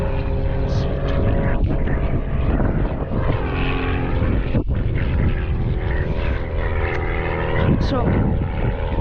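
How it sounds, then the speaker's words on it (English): Small propeller plane passing overhead near the water during kayak fishing at Lower Largo, a steady continuous drone heard throughout, with people talking over it. "Plane's going by again."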